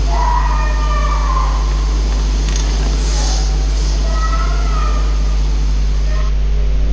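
A faint wavering wail rises and falls over a steady low hum and background hiss, thin and distant.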